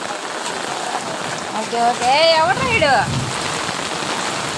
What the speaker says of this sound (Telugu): వర్షంలో తడుస్తావు?